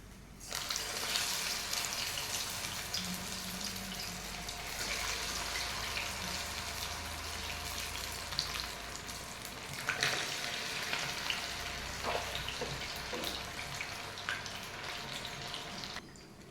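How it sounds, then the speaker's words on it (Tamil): Sabudana vadas, patted flat, are slipped into hot oil three at a time and deep-fried, making a steady, moderately loud bubbling sizzle with a few crackly spikes that carries on for the whole stretch. "நம்ம தட்டி வச்சுருக்க இந்த சாபுதானா வடையை ஆயிலில் ஒரு 3 போட்டு பொரித்து எடுத்துக்கலாம்"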